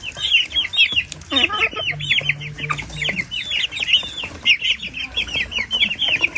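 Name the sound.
Japanese hens and roosters clucking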